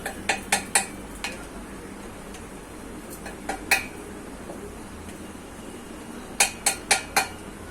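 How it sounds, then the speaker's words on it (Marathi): A spoon stirs ground makhana and sabudana into ghee in a metal pan, giving clusters of sharp clinks against the pan near the start, middle and end, with quieter stretches between. "आता हे आपण सगळं वाटलेलं आहे ते तुपामध्ये मिक्स करूया."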